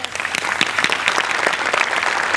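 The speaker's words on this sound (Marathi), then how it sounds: "त्यामुळे तिच्यासाठी एकदा जोरदार टाळ्या" Loud, lively applause from a comedy-show audience bursts out in a thick run of clapping, with sharp individual claps standing out from the continuous crowd noise.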